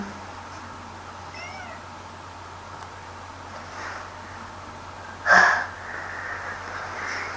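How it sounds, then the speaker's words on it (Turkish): A cat gives a single short, fairly loud meow close by in a quiet indoor room, with faint earlier mewing sounds in the background. "Lan kedi gel."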